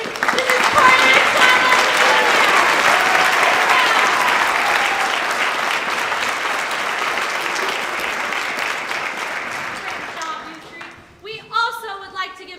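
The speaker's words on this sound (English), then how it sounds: "So I'd like to give them another round of applause." Theater audience at a community production of The Wizard of Oz breaks into a full, loud round of applause that fades out, followed by a speaker's voice near the end.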